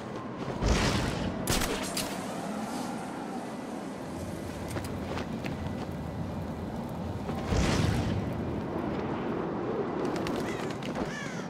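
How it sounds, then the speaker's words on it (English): Gunshots from Deadshot's weapon in Batman: Arkham City ring out over a dense, steady bed of game ambience, with two louder bursts standing out early and again partway through. "Detected another round fired from Deadshot's weapon."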